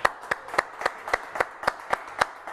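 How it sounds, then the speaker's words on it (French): Clapping at a television magic show, a steady rhythm of sharp hand claps at an even pace, fairly close and clear with no talking. "Allez, on applaudit Vincent."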